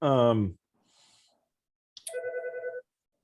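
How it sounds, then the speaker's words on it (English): A telephone rings with a trilling, warbling electronic tone for under a second, heard in the background of a county workgroup meeting after a brief burst of a voice. "apologize for the phone ringing in the background"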